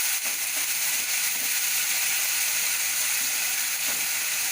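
Tomato puree sizzles in a hot pan with already-fried red onions for chana dal biryani, a steady, loud, bright hiss running throughout with no talking.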